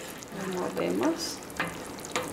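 Ingredients stirred in a cooking pot while making a Mexican elbow-macaroni salad with ham, a few soft scraping and shuffling strokes over a light sizzle, fairly close and moderately loud.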